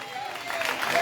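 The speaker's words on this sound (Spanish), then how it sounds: "Dale ofrenda de palmas a Dios." A church congregation claps together during a sermon, producing a steady, fairly loud wash of applause that builds slightly toward the end.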